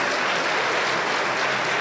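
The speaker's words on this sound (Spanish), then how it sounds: "Un fuerte aplauso para el Señor Jesús." A Pentecostal church congregation in Junín, Peru claps steadily in a dense, continuous wash of applause that holds evenly for the whole stretch, with no voices standing out.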